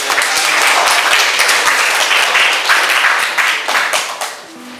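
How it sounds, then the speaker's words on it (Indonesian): Applause from a classroom of students for a student group about to perform, dense continuous clapping lasting several seconds and tapering off near the end, loud and close. "kita berikan aplaus pada kelompok beras"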